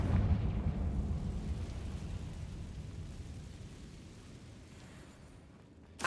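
A Confringo fire spell explodes in Hogwarts Legacy, a deep rumbling boom that fades slowly over several seconds before a sharp burst at the very end, with no voices.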